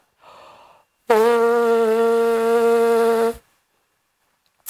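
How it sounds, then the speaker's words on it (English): A player buzzes the lips steadily to practise for the French horn, producing one sustained buzzing tone lasting about two seconds after a soft breath, up close and alone. "we create that buzz by putting our lips together"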